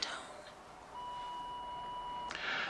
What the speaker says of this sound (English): please leave me a message at the tone